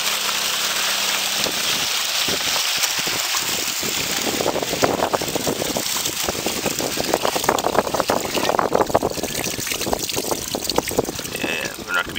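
Wind blows steadily at a riverside mining camp on the Thompson River, a continuous loud rushing hiss with gusty buffeting against the microphone that swells and eases throughout.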